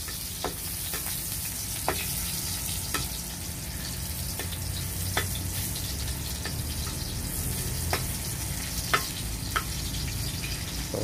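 Garlic sautéing in a pan, a steady close sizzle with regular sharp ticks and scrapes from stirring, no voices over it.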